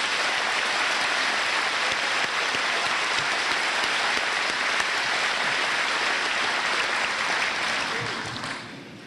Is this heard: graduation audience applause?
yes